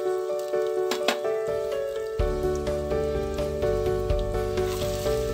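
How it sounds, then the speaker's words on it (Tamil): Garlic, green chili and onions sauté in a pan, giving a crackling sizzle that grows busier partway through, mixed with steady background music and no speech. "இப்போ எல்லாத்தையும் நல்லா வதங்கட்டும்."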